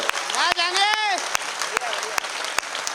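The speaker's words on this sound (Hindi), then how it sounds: "आपकी तालियां कमजोर है मेरे दोस्त" Scattered, thin applause from an audience at a Hindi kavi sammelan poetry recital. A few sharp claps stand out at uneven intervals under a sustained voice that rises and falls.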